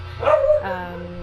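A household dog gives a single short bark or yip in the background over a steady electric fan hum, lasting about a second.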